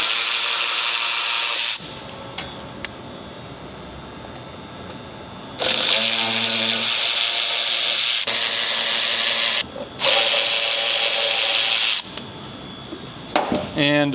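A power driver whirs in several loud bursts, stopping and starting, while it backs Torx 15 screws out of a plastic front fender flare cap on a 2020-2026 GM Sierra 2500/3500. Quieter handling sounds fill the gaps between bursts.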